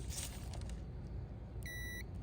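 A single steady electronic beep from a multimeter on continuity setting, testing a fuse on a Jeep Wrangler JL high-amp fuse array, lasts about half a second over a constant low background hum.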